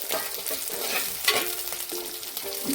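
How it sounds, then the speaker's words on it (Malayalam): Green chillies stirred into frying onions in a pan for a green peas curry, a steady sizzle with repeated scraping strokes of the spoon, close and continuous, no talking. "ഒന്ന് ഇളക്കി കൊടുത്തിട്ട് പച്ചമുളകിൻ്റെ പച്ചമണം ഒന്ന് മാറാനായിട്ടാണ് ഇളക്കി കൊടുത്തു"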